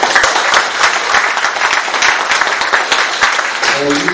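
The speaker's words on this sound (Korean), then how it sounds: "다시 한번 박수" Sustained applause from a large audience at a Korean Buddhist Taego Order election for its 28th president, dense and steady throughout, with a brief voice emerging near the end.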